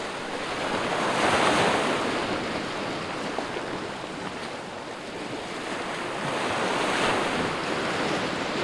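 Ocean waves wash steadily onto a fishing beach, a loud, continuous surf roar that swells and eases in slow cycles, with wind buffeting the microphone and no voices.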